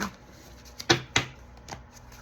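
A few quick riffling bursts of handmade oracle-style cards being shuffled, close and fairly quiet, with short pauses between the crisp flutters.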